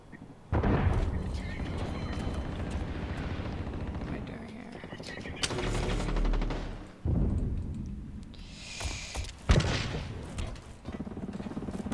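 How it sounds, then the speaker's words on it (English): Gunshots and explosive bangs from the shooter BLR, coming in loud separate bursts with gaps between them, mixed with game noise and a voice talking over parts of it. "it sounds like the shots are coming from there"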